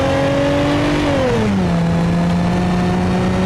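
A BeamNG.drive S3200 Sedan's 3.2 liter V6 revs loud and close, holding a high pitch for a second before sliding down and settling into a steady lower drone.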